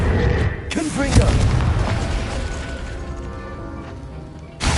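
A Confringo fire spell explodes in the game Hogwarts Legacy with a heavy boom and a rumbling, crackling burst that lingers before fading, and a second impact near the end.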